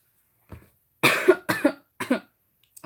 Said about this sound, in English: Loud coughing.